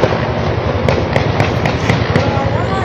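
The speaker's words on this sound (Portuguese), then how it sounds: "Vários disparos de tiro, ó." Multiple gunshots ring out across a community in Brazil, sharp distant cracks popping irregularly over a dense, noisy background, with a voice talking over them.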